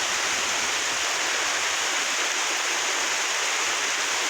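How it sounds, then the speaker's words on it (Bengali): Heavy rain with strong wind in a village, a dense, steady, loud hiss of downpour filling the whole scene without pause. "প্রচুর বৃষ্টি হচ্ছে, বাতাস হইতেছে, প্রচুর বাতাস হইতেছে"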